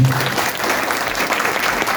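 A crowd at an AK Party rally in Balya, Balıkesir, claps in a dense, steady burst of applause, loud and continuous throughout the short stretch.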